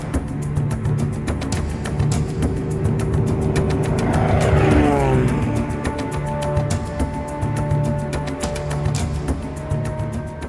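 A small propeller aircraft flies over rural farmland near the Limpopo river, its droning engine swelling to a close pass at the midpoint with a sweeping pitch shift, then settling into a steady buzzing hum.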